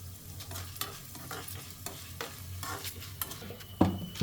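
Cashews fry with asafoetida, black pepper and cumin in a pan, giving a steady close sizzle broken by repeated scraping stirs and a louder clatter near the end.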